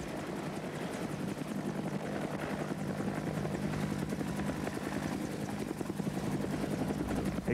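A military helicopter flies steadily overhead, its rotor thump and engine whine loud and continuous throughout with no talk.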